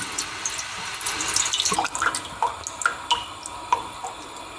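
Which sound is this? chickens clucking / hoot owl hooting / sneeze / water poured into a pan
water poured into a pan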